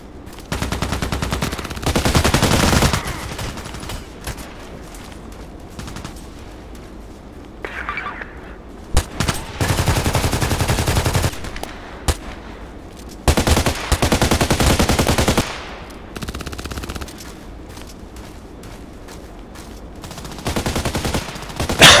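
AKMS rifle fire in the shooter game Contract Wars: repeated loud automatic bursts of a few seconds each, separated by quieter gaps with scattered single shots and faint game sounds, no speech.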